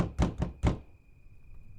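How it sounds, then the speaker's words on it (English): Three quick, loud knocks on a door close by, the third slightly heavier, followed by a faint steady hum with no voices. "All right, I knock on the door again."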